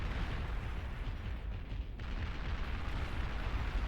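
Gauntlet artillery in the strategy game Beyond All Reason booms in a dense, continuous barrage of low rumbling blasts and pops, loud and sustained throughout with only a brief dip near the middle.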